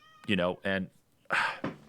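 A cat meows in two drawn-out, wavering cries while squabbling with a dog, followed by a couple of harsher, noisier yowls, all close and fairly loud with no talk over them.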